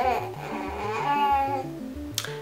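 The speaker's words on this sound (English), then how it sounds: "if you hear a baby in the background," A baby babbles in a singsong, rising and falling voice, close by and continuous for a couple of seconds.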